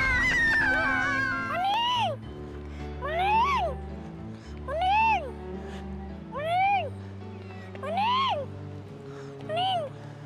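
A cat meows six times in a row, each a rising-then-falling cry spaced roughly every one and a half seconds, close and clear over a quiet low background hum.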